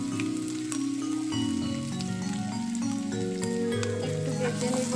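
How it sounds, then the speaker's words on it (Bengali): Chopped ginger and garlic frying in a little oil, a steady continuous sizzle with dense crackling running the whole time, fairly loud and close, accompanied by a tonal musical background. "একটু ভেজে নিব।"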